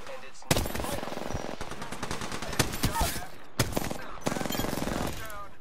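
Automatic gunfire rattles in rapid, continuous bursts in the video game Apex Legends, loud and close, with brief gaps between volleys.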